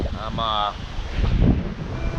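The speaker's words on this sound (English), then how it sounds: "It's pretty freaking windy, like 30-mile-an-hour gusts." Strong gusty wind, around 30 mph, buffets the microphone at a local park, a loud continuous roar that surges midway. Someone speaks briefly at the start.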